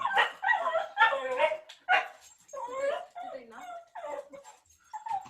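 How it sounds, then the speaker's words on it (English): A dog whimpers and lets out short yips and barks indoors, mixed in with someone talking over a live stream. "I apologize for my dog, by the way. He might do that from time to"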